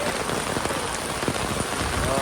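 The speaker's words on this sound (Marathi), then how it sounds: "खरंच लई जोरात पाऊस आहे बघा" Heavy rain pours down in a dense, steady hiss, drumming hard on a nearby surface with no letup.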